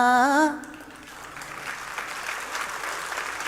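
After a brief sung phrase fades out, an audience at a book launch breaks into sustained applause that builds and holds, a broad crowd clapping at moderate volume.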